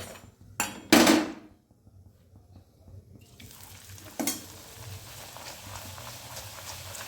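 Pea-stuffed kachori fry in oil, with a soft, low sizzle that builds into a steady hiss in the second half, broken by a few sharp knocks and clatters of utensils near the start.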